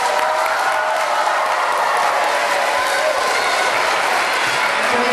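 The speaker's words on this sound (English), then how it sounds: "can we have a round of applause for our faculty and staff?" Sustained, loud applause from a school assembly of boys and girls honouring faculty and staff, dense and steady clapping filling the room with no break, a crowd murmur blended in.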